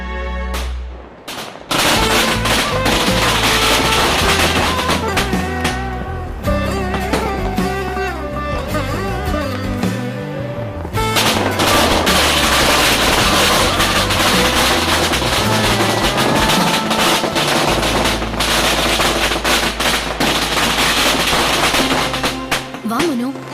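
Firecrackers bursting at a festive celebration, a dense, loud, continuous crackle of rapid pops with music running underneath for the whole stretch.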